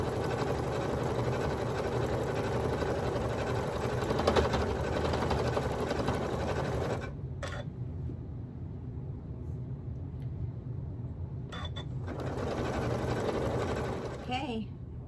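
A sewing machine hums steadily and close as it stitches around the edge of a rag quilt, pausing briefly twice before running on, with a voice talking over it.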